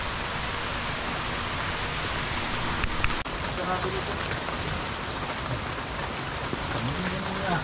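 Heavy rain pours down steadily, a dense, loud hiss of drops hitting surfaces close by, with a faint sharp knock partway through.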